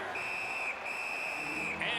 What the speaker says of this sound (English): And the referee's whistle has stopped play